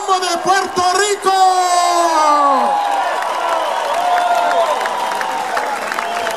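A festival crowd at the Curaçao North Sea Jazz Festival 2013 cheers and applauds, the clapping and shouts sitting under a loud amplified voice and sustained musical tones.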